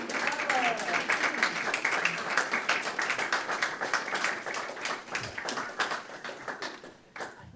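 An audience claps for poets at a library poetry reading, a dense burst of many hands that holds steady and then thins out toward the end.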